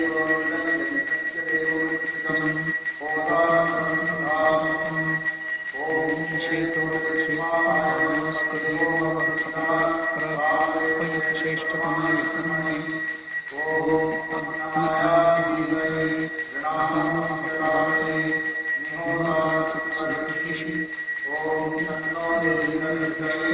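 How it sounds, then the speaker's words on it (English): A ritual bell rings continuously through a Krishna Ashtami bathing ceremony, its bright sustained metallic tone layered over rhythmic chanting voices that rise and pause in phrases. "The bell is continuously chanted."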